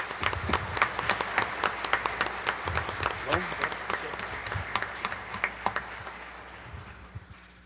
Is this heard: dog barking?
no